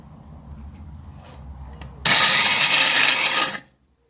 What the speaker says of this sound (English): So I'll do the vibrating, vibrocentric cutting first.